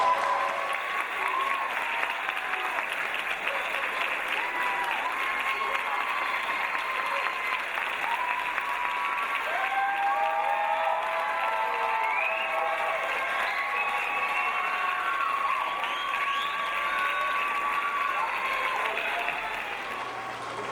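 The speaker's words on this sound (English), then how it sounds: "We're going to have more time for applause." Sustained audience applause at a nursing candle lighting ceremony for a spring 2012 class, a large crowd clapping steadily with cheers and calls, heard loud and continuous before easing slightly at the end.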